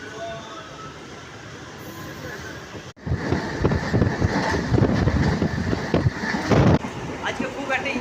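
A new EMU local train on the Bandel–Azimganj line, heard from a seat by the window inside a nearly empty carriage: a quieter stretch, then a sudden loud rush of rumbling wheels and wind noise.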